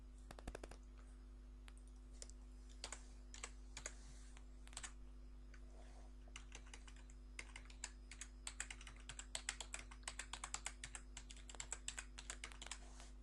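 Keys on a computer keyboard are tapped at a quiet level, first in sparse clicks, then in quicker clustered runs, over a low steady electrical hum.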